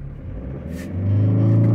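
A BMW car engine idles roughly, then revs up into a louder, steady droning hum that holds at higher pitch without dropping back; close and with no talking.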